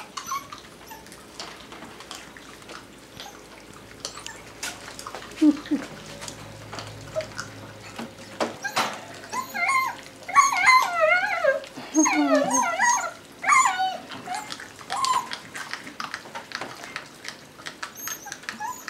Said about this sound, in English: Big job trying to get those duck feet chewed up